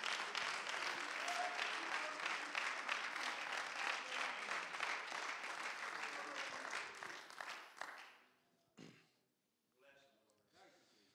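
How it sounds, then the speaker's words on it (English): A church congregation claps hands in praise during a worship service, dense sustained applause for about eight seconds before it fades, followed by a few faint scattered claps and a voice. "Can we give a hand clap of praise to the Lord right now?"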